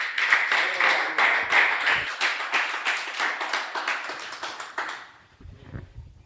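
A church congregation claps in rhythm during a sermon, a run of strong, evenly spaced claps roughly twice a second that gradually loosen and fade after about five seconds, with no talking.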